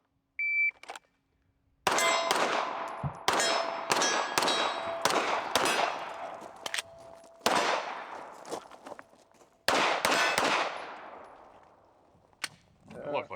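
A Ruger Mk IV 22/45 pistol fires in quick strings at steel targets, each shot followed by a bright metallic clang that rings and decays, with pauses including a break for a reload, heard fairly close.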